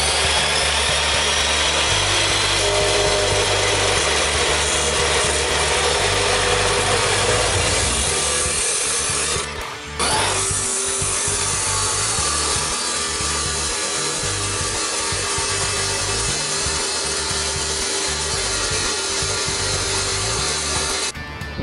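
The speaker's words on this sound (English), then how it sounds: "Got the 10-foot pipe set up in the cutoff saw here. We'll be cutting that at 7 foot 7 inches." Cutoff saw slicing through a 10-foot length of pipe, a loud, steady abrasive grinding whine that briefly dips near the middle, then carries on to the end, with no voices.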